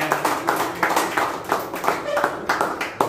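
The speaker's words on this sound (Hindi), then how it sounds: "आप सब लोग तालियां बजाएंगे एक बार अपने लिए" A group of team members at a Diwali celebration clap their hands together in a steady, rhythmic beat, about three claps a second, close and fairly loud, with no talking over it.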